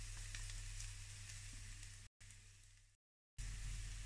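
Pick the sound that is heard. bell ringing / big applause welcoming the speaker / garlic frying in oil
garlic frying in oil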